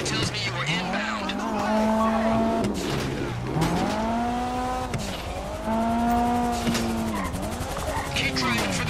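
A car revs and shifts through gears while driving in the video game GTA 5, the engine whining up and dropping repeatedly with tire squeals, loud and close, as voices talk over it.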